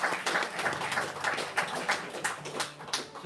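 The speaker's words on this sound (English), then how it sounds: "Give her another round of applause" Audience applause for a performer after a folk song, a moderate patter of scattered handclaps with distinct individual claps, fairly quiet and continuous.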